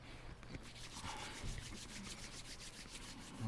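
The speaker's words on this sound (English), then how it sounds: "Let's rub our palms together." Palms rubbing together steadily during a kundalini yoga kriya, a continuous close, soft friction swish with rhythmic strokes, no talking.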